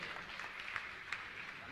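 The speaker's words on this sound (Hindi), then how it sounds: "जोरदार ताली बजाकर उनका सम्मान करें" An audience applauds at a religious discourse gathering to honour trustee guests. The clapping is a faint, steady wash of sound that lasts throughout.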